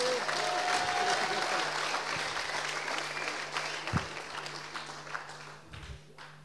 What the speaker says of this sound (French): Allez, on applaudit, on met de l'entrain là